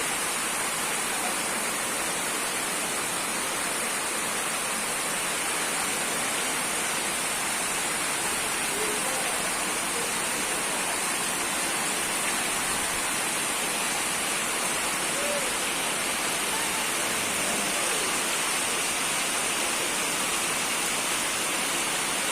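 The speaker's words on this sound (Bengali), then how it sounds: "দেখেন টিনের শব্দ, মানে বৃষ্টির শব্দ কিন্তু ভালোই লাগে টিনের বাসায়।" Steady rain drumming on a tin roof of a house, a dense, even hiss that holds without pause throughout, close and continuous with no voices over it.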